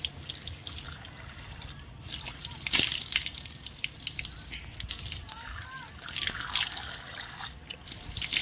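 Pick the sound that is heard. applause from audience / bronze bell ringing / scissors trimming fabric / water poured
water poured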